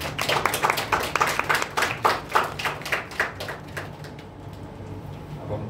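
An audience claps to welcome a visiting lecturer at an invited university lecture, a burst of clapping that thins and fades out over several seconds, leaving a quiet room.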